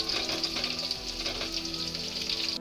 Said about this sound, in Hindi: यहाँ हमारी प्याज फ्राई हो रही है